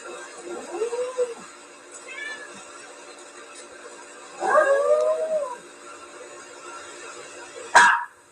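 A cat pushing a dog into a pool, with a few short whining, meow-like animal cries spread apart, fairly close, over a quiet background.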